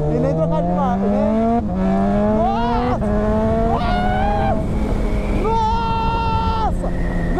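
A Honda CB1000 motorcycle accelerates hard with a quickshifter, its rising engine note dropping briefly at each clutchless upshift, about five quick gear changes in steady succession, loud and close.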